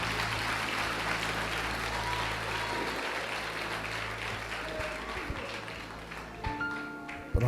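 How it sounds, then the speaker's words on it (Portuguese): A church congregation applauds for Jesus with continuous, dense clapping that holds steady for several seconds, then thins out near the end. "Uma salva de palmas a Jesus"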